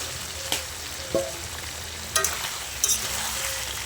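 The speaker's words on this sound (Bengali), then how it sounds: "আলুটা দিয়ে আর কিছু সময় কষিয়ে নেব।" Potatoes fry together with chicken in a pan under a constant, close sizzle, punctuated by four distinct knocks and scrapes of a spatula stirring the pieces.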